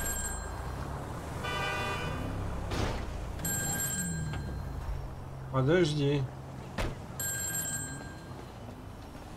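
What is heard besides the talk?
telephone ringing in Grand Theft Auto V video game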